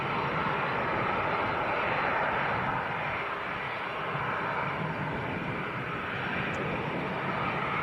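An airliner taxis out at Leeds Bradford Airport, its engines a steady, loud broadband roar that holds constant throughout with no voices.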